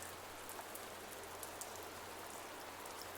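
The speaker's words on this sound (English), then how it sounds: "the rain begins to lighten up as the canopy above you acts as a kind of umbrella against the rain" Soft, steady rain ambience plays as background during a tabletop role-playing session, a faint even patter with no talking over it.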